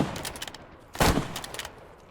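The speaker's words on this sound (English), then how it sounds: "Make sure you practice turning and shooting." Rapid bursts of gunfire from the World War II shooter game Squad 44: a fast volley of shots, a brief lull, then a louder, heavier burst followed by a few more scattered rounds, all close and punchy.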